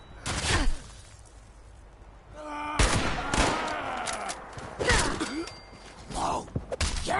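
Combat shotgun blasts in Fallout 76, several loud separate shots spaced a second or two apart, each with a sharp crack and a short rumbling tail, with mechanical clicks between them.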